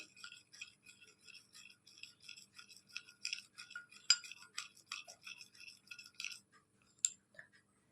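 A starch face pack stirred into a cream makes soft, quick scraping and clicking strokes of a utensil in a small bowl, close and quiet, repeating in an uneven rhythm.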